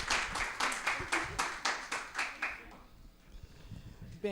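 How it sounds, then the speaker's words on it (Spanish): Studio audience clapping in rhythmic unison on a Spanish-language student TV programme, a run of evenly spaced loud claps that stops after a couple of seconds, leaving quieter room noise and murmur. "Por favor, aplausos para los honores."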